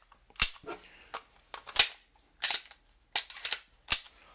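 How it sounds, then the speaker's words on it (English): A Walther PPQ M2 pistol handled up close, its slide racked in a series of sharp metallic clacks and snaps, several distinct mechanical clicks spread over a few seconds with quiet gaps between. "Go ahead and rack the slide, make sure that you still have functionality."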